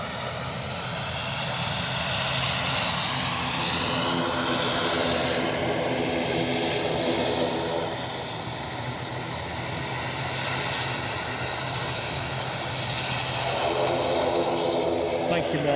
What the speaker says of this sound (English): Ryanair inbound from Vienna